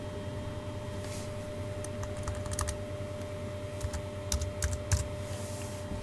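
Rapid keystrokes on a computer keyboard tap in short irregular bursts over a steady electrical hum, close and fairly quiet, with no one speaking.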